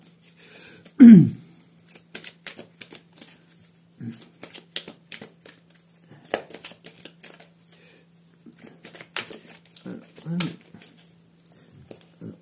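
Oracle cards being shuffled by hand: a string of soft, quick papery riffles and taps in short irregular bursts, with brief gaps between them and a person speaking quietly at times.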